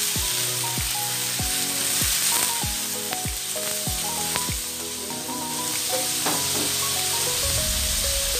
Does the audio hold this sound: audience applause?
no